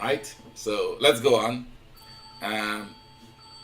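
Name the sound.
alarm to check temperature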